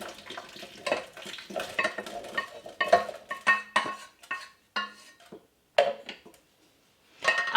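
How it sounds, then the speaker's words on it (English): Peppers with their seeds and vinegar are poured into a blender, producing irregular splashes, plops and clinks of container against glass, close and intermittent with brief quiet gaps. "Now I'm gonna very carefully pour this into this blender."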